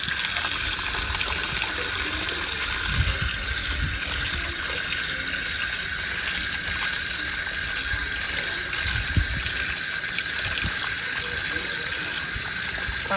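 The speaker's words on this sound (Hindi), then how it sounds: "चिकन धोना स्टार्ट कर दिया" Tap water gushes steadily into a sink while raw chicken is washed, a continuous close rushing stream with occasional splashes and handling clunks throughout.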